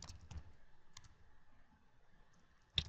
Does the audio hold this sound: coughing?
no